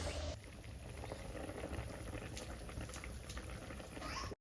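Fish curry gravy boils in a pot, a quiet bubbling and spluttering texture close by that holds steady, then cuts off abruptly at the end.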